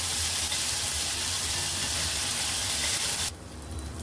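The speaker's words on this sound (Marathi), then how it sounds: "1 चम्मच अद्रक लसणाची पेस्ट टाकूया आणि अद्रक लसणाच्या पेस्टला चांगलं भाजून घेऊया।" Ginger garlic paste sizzling and frying as it roasts in a hot pan, a steady broadband hiss that continues until it suddenly drops away near the end.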